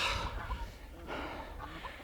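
Faint chicken clucking comes in soft, scattered bursts over a low outdoor rumble, quiet and somewhat distant, on a homestead with long grass on a chilly August morning.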